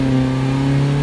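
Mazda MX-5 ND fitted with a Fox aftermarket exhaust revving, a steady loud engine drone with strong low harmonics held evenly for about a second.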